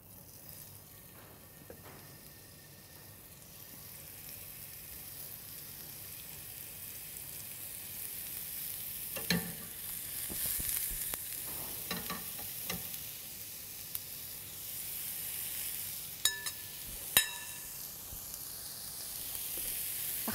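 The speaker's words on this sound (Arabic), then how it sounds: "الحين ننزل المقلة وهي حارة، ونبدي نقلي شوي شوي" Meat frying in a hot pan with dried thyme, cumin and chili, a steady low sizzle and crackle with occasional stirring scrapes and clatters, no talking.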